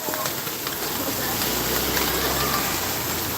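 Early monsoon rain falls in Rajpipla, a steady, moderate hiss of water pattering on surfaces that continues evenly throughout.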